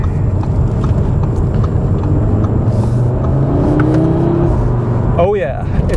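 A 2022 Audi RS3 engine drones low and steady from inside the moving car, a muffled, continuous rumble with a rising note toward the end, while someone talks over it.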